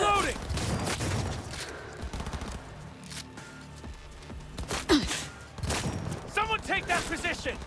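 Gunfire in the video game Cyberpunk 2077, with scattered shots and bursts mixed among shouting and vocal effort sounds, loud and close.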